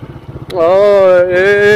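A motorcycle ridden one-handed along a forest track, carrying pigeons, its engine rising into a steady, loud droning hum after a half-second of quieter rumble and holding close and continuous to the end.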